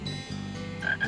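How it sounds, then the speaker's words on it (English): Frogs croak at night in a short burst, a couple of close, clear croaks rising over a soft background hum with no voices. "You can hear the froggies singing."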